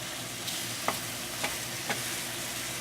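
Small pieces of mushroom sautéing in a pan, a soft steady sizzle with a few light scrapes and stirring clicks of a utensil, close by and alone.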